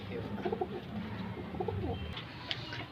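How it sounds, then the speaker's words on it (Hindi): Soft, repeated cooing of fancy Cheena pigeons, low and murmuring, over a quiet background hum. "ये चीना कबूतर है"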